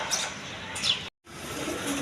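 A pair of red full Jacobin pigeons gives soft, low coos up close, with faint chirps over a hissy background that drops out briefly.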